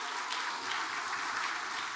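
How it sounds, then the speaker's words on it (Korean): Dense applause from a church congregation at a worship service, a steady wash of many hands clapping close by with no talk over it. "우리 박수 한번 해주시기 바랍니다"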